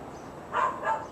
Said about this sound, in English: There's a guard dog upstairs. He's barking like crazy.